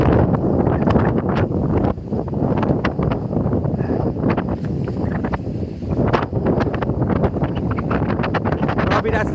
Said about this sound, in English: I'll just give you a quick peek of what the wind is like.